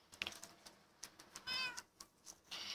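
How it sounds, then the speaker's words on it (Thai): A cat meows close by, a short harmonic cry standing out amid scattered clicks and rustling around an outdoor temple garden with trees and a pond. "เฮ้ยมีเหมียวด้วย"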